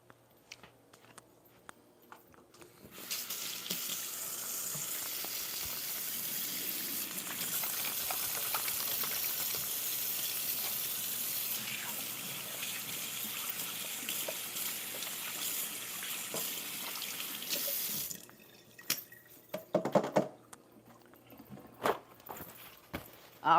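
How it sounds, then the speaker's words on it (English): A kitchen sink tap runs in a steady hiss for about fifteen seconds as hands are washed under it, then it shuts off, followed by soft clatter and handling noises, fairly close. "I'm going to go wash my hands real quick right in there in my kitchen."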